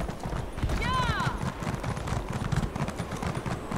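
Horse hooves clip-clopping at a steady riding pace in The Elder Scrolls Online, a rapid rhythmic patter under game ambience, with a short whinny early on and someone talking over it.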